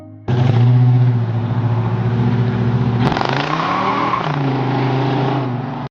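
A 1967 Buick Grand Sport 400 with a 400 cubic inch V8 idles with a deep, loud burble, then revs up sharply, with the engine pitch rising and falling through several throttle blips before settling back to a steady rumble.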